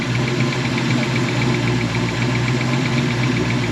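A 347 stroker V8 idles steadily with a loud, continuous rumble and a faint rhythmic pulse, heard close and alone throughout.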